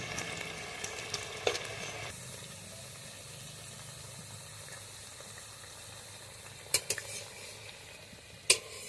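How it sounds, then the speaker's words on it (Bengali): Potato and onion pakoras deep-frying in oil, a quiet steady bubbling sizzle with a few sharp utensil clicks and taps scattered through, no speech. "লাল লাল করে পকোড়াগুলো ভেজে নিয়েছি আলু পেঁয়াজে"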